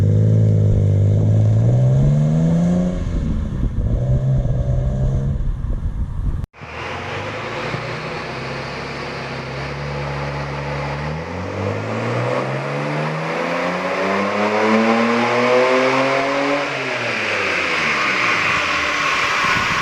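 A 1985 BMW 635CSi driven after a manual transmission swap, its engine loud and close, rising through gears with repeated revving climbs and brief drops at each shift, then pulling hard in a long, rising acceleration.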